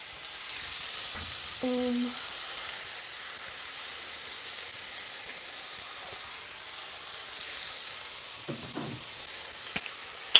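Steaks frying in a pan give a steady, quiet sizzle and hiss that runs throughout, with a brief tonal beep near the start and a few soft clatters of utensils toward the end.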